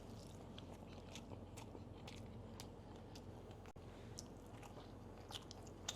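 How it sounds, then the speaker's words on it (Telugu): Someone chews a mouthful of rice with chicken fry close to the microphone, with soft repeated crunchy bites and moist chewing clicks over a faint low background hum. "ఫ్రై పెట్టుకుని తింటాను రా ఓ ముద్ద"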